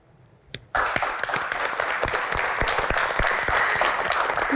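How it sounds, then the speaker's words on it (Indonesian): After a brief quiet moment, applause bursts in suddenly and continues loudly, many hands clapping steadily from a nearby audience. "Tepuk tangan sekali lagi"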